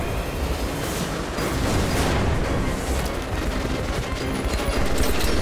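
Pneumatic air-powered weapon firing during a siege battle in Metro Last Light Redux, a dense loud barrage of shots and explosions running continuously amid game combat noise.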